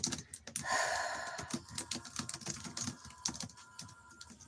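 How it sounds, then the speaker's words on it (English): Rapid clicks of typing on a computer keyboard, irregular bursts of keystrokes close and moderately loud, with no talk over them. "I'm typing that in."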